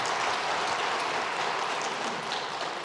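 A church congregation at a Sunday service claps in a dense, continuous wash of applause, welcoming a visiting missionary couple from Thailand.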